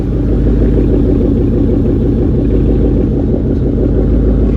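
A 2014 Ford Mustang GT V8 with a Roush exhaust idles with a deep, steady rumble and low throaty chug, continuous and close by, no voices.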